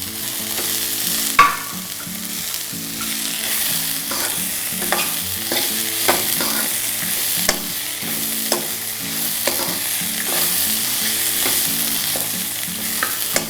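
Mixed vegetables with capsicum frying in a pan for a vegetable upma, a steady close sizzle broken by frequent scraping stirs and clinks of a spatula, with no talking.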